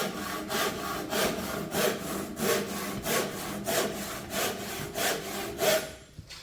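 A hand saw cuts through wood in a steady rhythm of about a dozen strokes, each a loud rasping push-pull, heard close and alone with no talk over it.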